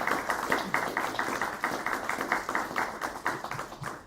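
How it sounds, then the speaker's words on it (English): An audience claps for a speaker after an evening talk on small language models, a steady run of many hands clapping at a moderate level with no talking. "Let's give our speaker a round of applause."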